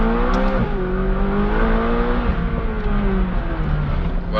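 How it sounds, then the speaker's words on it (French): A McLaren 570 GT engine revving hard under acceleration, a loud close-up roar with harmonic tones rising in pitch, dipping at a gear change and climbing again, with no talking over it. "histoire qu'on fasse chanter un petit peu le moteur"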